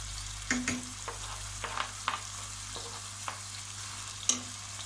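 Red kapya peppers sautéing with onions in a pan, a gentle continuous sizzle under scattered spatula taps and stirring clinks.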